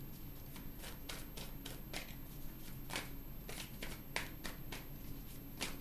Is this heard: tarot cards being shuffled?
yes